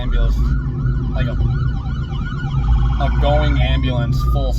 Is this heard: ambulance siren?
yes